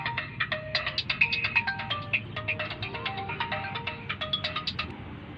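An incoming-call phone ringtone plays alone, a bright repeating electronic melody of quick notes that keeps a steady rhythm for several seconds at moderate volume.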